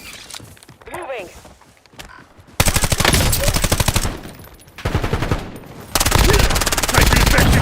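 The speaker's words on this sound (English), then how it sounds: "Taking effective fire." Video game gunfire in Warzone comes as rapid automatic bursts, loud and close, starting and stopping in several long volleys with short pauses between them, with brief game voice chatter before the shooting.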